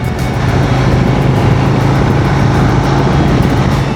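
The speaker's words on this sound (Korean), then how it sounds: "이 배기음 소리 거기 들려?" A Harley-Davidson Road Glide S motorcycle exhaust roars loud and close, a deep steady rumble holding constant throughout without any voices.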